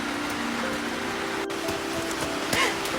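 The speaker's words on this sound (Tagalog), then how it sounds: "Lakas ng ulan" Heavy rain pours down steadily, a dense continuous hiss of drops with a faint low hum beneath and a few brief clatters standing out.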